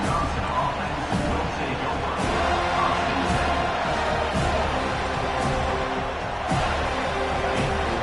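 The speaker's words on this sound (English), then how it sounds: "This crowd, full throat, splitting the eardrums and letting them know it's going to be a long day" Stadium crowd at a Wisconsin versus FSU college football game, a sustained distant roar of cheering with periodic sharp thuds, under a commentator's voice.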